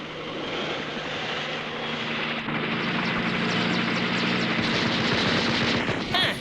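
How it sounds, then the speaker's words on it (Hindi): Cartoon jet helicopters roar steadily overhead in an animated action scene. The engine drone stays loud and continuous throughout, with rapid clattering bursts like gunfire layered over it. "जेट हेलीकॉप्टर्स, इतनी हिम्मत इनकी।"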